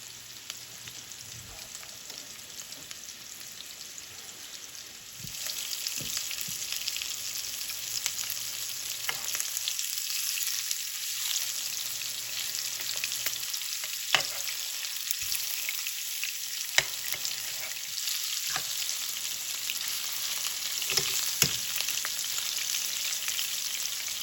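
Lamb rib chops seasoned with creole spice sizzle in a pan on a stovetop at medium heat, a steady close crackle that grows louder after a few seconds, with occasional pops.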